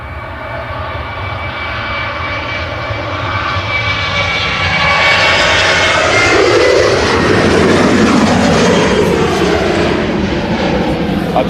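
An airliner departs Manchester Airport, its engine roar swelling from a distant hum into a loud, full-bodied thrust rumble with sweeping tonal whine as it climbs past.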